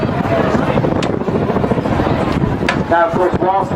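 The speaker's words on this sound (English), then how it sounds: "This is auto gyro. There's no power going into that rotor above him." Calidus autogyro flying at an airshow, its unpowered rotor turning above while a rear pusher propeller drives it, heard as a steady broadband whirring drone with wind buffeting, under a public-address commentator's voice.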